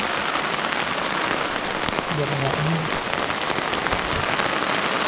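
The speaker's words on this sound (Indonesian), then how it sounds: "Hujan udah setengah jam." Steady heavy rain drums on a surface during a hike on Mount Gede, a dense unbroken wash of noise throughout, with faint talk briefly underneath.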